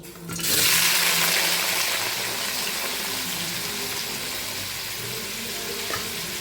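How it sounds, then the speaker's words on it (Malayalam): Brinjal (eggplant) hitting hot oil in a pan to sauté, a sudden loud sizzle that flares up and then settles into a steady hiss, heard close with no talking. "നമ്മുടെ വഴുതനങ്ങ ഉണ്ടല്ലോ അത് നമുക്ക് ഈ എണ്ണയ്ക്കകത്തോട്ടിട്ട് നന്നായിട്ടൊന്ന് വഴറ്റിയെടുക്കാം"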